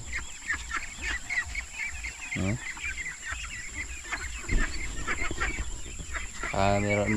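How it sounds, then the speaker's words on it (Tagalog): A hundred small pet ducklings being raised on a farm peep and chatter continuously nearby, with a few louder squawks and a person talking over them. "Mga alagang bibi din, maliliit."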